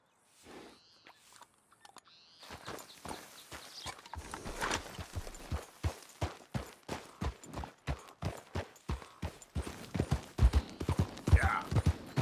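Rhythmic horse hooves trot in Red Dead Redemption 2 with a regular clip-clop, starting sparse and growing steadier and louder, with a brief whinny-like sound early on.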